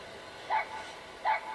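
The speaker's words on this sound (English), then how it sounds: "the dog." The puppy D-Dog on Mother Base in the video game Metal Gear Solid V: The Phantom Pain gives two short, high yips about a second apart. The yips are fairly close and heard alone.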